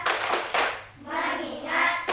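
Children clapping in a classroom focus clapping game, a few bursts of hand claps in quick rhythm, near and fairly loud, with young voices chanting along between the claps.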